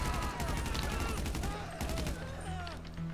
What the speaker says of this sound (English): This gun is an eargasm. I've always been fond of the H&K guns.